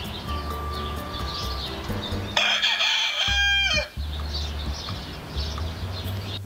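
Farmyard chickens cluck softly before a rooster lets out one loud, close cock-a-doodle-doo crow lasting over a second, then the clucking resumes.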